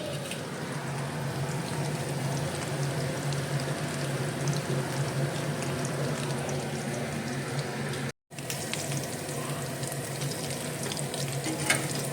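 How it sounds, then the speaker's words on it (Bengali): Chicken frying in a pan, a steady dense sizzle running throughout with one brief dropout partway, no voices. "আর এখানে এতগুলো চিকেন বাকি আছে ফ্রাই করতেই যতটা টাইম লাগে"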